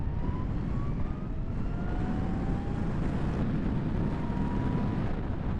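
A steady, loud wind-and-road rush from a 2022 Zero SR/S electric motorcycle at full throttle, with a faint rising whine under the constant roar.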